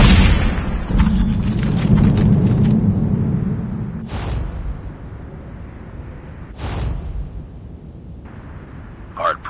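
A frag grenade detonates in a first-person shooter match: a loud low boom and rumble near the start, followed by sharper bursts and game effects, with battle chatter from in-game voices.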